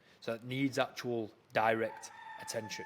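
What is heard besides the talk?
chickens and cockerels crowing and clucking nearby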